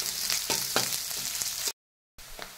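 Chopped onion and green chillies sizzle and fry in a pan for upma, a steady crackling hiss punctuated by a few stirring scrapes, broken by a short silent gap before resuming.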